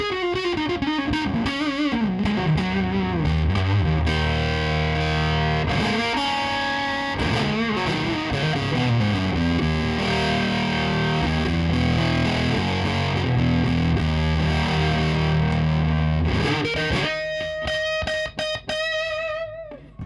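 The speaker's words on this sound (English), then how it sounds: "those kind of Phrygian sounds in your pentatonics, it gets this very, well, Eastern kind of sound" Distorted electric guitar plays a Phrygian-flavoured pentatonic lick with an Eastern feel, a loud continuous run of bends and notes, then a thinner, sustained tail near the end.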